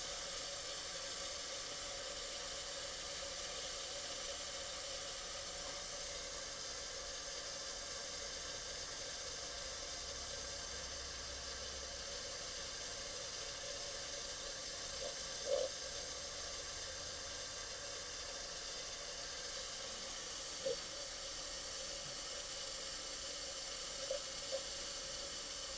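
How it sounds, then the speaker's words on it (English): Water steadily filling a cold brew coffee maker with coffee grounds inside, a soft continuous hiss at low level, with a few faint clicks toward the end. "So you can see now it's just filling up with water."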